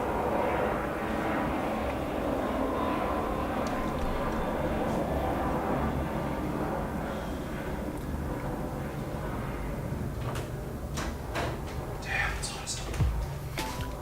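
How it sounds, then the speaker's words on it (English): An airplane drones steadily overhead, its low engine roar filling the background, with some clattering sounds near the end. "hold up, airplane."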